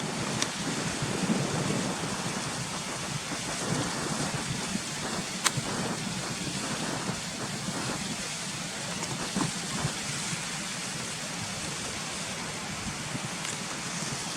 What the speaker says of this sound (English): you can see the waterfalls coming down there now